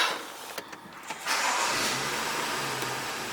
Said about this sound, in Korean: 시동을 먼저 걸어서